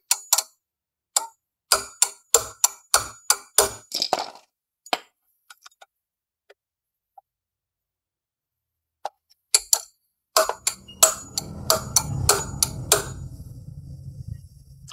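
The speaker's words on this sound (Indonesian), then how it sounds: "silakan palu kembali" A hammer repeatedly strikes an AMAN Premier extra-long steel hex key, giving sharp metallic clinks in quick bursts, first in a fast series, then a pause with a few isolated taps, then another cluster over handling noise.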